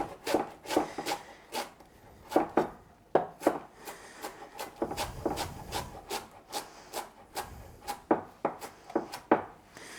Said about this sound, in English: So I'm just going to bunch that up. And first give it a rough chop so everything is easier to maneuver.